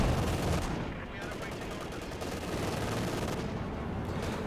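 MG42 machine gun fire in the Company of Heroes 2 strategy game, with dense, sustained rattling bursts and booming battle noise, loud and unbroken across the whole stretch.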